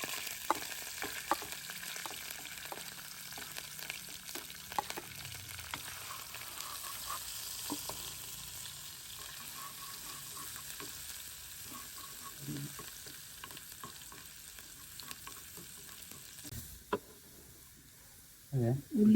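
Garlic sizzles steadily in hot oil while cooking chicken fry, a continuous crackling hiss with occasional scraping stirs, close by, until it briefly cuts out near the end.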